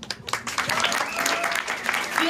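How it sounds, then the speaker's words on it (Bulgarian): A school audience breaks into lively, dense applause for a graduating class at a Christmas show, with voices mixed into the clapping throughout. "Аплодисменти за 12-ти Б клас."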